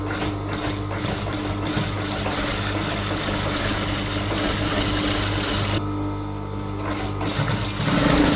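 Sewing machine running in steady bursts while stitching elastic onto a child's trouser, a close, continuous mechanical whirr with a brief pause near the end.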